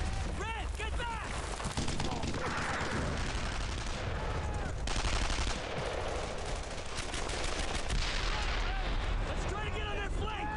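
Relentless World War II-style gunfire in Brothers in Arms: Earned in Blood, with overlapping rifle and machine gun bursts and heavier booms forming a loud, continuous barrage, while voices shout over the combat.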